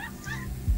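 Dogs, a husky and a shih tzu, give soft whimpering yips and a short bark-like burst near the end, close by and at moderate level over low background rumble.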